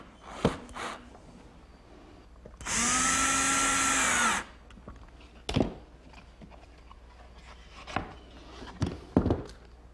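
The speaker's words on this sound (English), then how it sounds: "I'm going to install them from both sides of the rudder" A power drill drives a half-inch stainless steel screw into a boat rudder in one loud, steady burst of nearly two seconds, surrounded by quieter knocks and handling taps.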